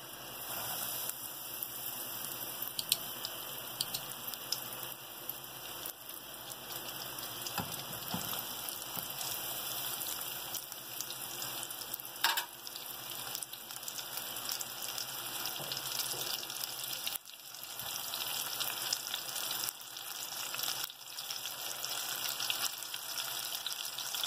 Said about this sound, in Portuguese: vamos colocar nossa banana para fritar